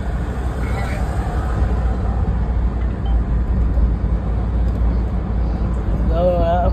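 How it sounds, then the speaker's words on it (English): Steady road traffic noise from riding down a busy street, a constant low rumble of passing vehicles throughout, with someone talking briefly over it. "I'm in this traffic right now."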